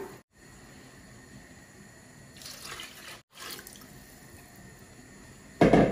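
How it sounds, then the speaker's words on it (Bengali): Hot water from a kettle poured by the bowlful into a pot while making Sylheti kheer, a soft steady watery rush with brief pauses and a louder splash at the end, heard up close. "আমি এই বল দিয়া গরম পানি, একদম কেটলের গরম পানি আমি 1 বল দিলাম"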